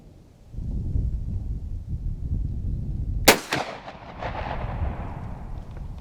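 A single loud rifle gunshot cracks out during a hunt in a marsh, sharp and close, with a ringing tail trailing off over a low background rumble.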